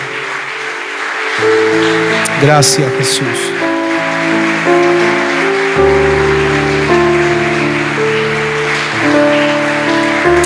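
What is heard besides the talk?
congregation clapping hands as an offering to the Lord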